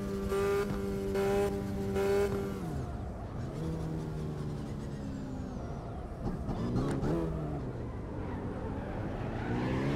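A Mazda MX5 engine in the CarX Drift Racing Online video game on a highway, a loud, steady revving drone that climbs and drops in pitch through gear shifts, with faint tire noise.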